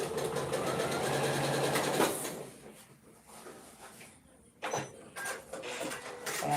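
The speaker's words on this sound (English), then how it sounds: "I'm gonna sew these together." A sewing machine stitching quilt binding, a fast, steady close mechanical whir that pauses briefly and then starts again.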